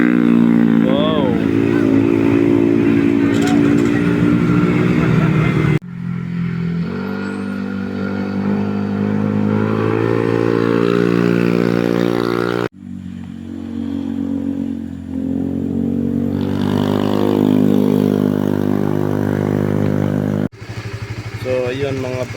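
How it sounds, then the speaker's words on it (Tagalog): Super GTR motorcycle engine running loud and close, a steady harmonic idle with shifting revs and a few abrupt cuts and restarts, mostly on its own. "sininsyol ko itong aking motor na si Super GTR"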